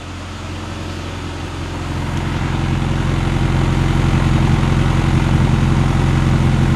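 A 1974 Mini Cooper engine idles steadily up close, its low puttering exhaust growing a little louder and rougher over several seconds.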